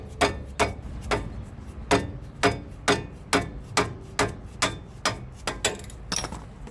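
Sharp metallic clicks repeating in an even rhythm, about a dozen, as caliper bolts are broken loose on a 3rd gen Toyota 4Runner during rotor replacement, fairly quiet and close with no talk.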